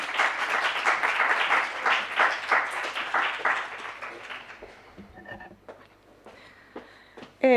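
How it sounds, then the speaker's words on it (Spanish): Audience applause at an oral presentation session rises strongly, then thins into scattered claps and fades to a few isolated sounds. "Un aplauso."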